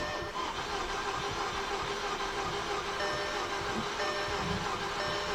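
A 2014 Volkswagen Beetle 2.0 with a no-start fault cranking continuously without catching, giving a steady, dense mechanical churning drone that runs unbroken for over five seconds, close up.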